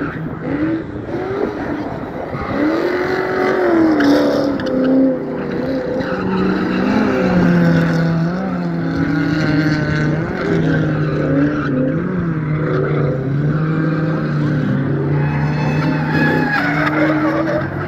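Audi and Infiniti drift cars skid around Langley Speedway at a drift club event, with loud, wavering tire squeals and revving engines rising and falling close by, almost without pause.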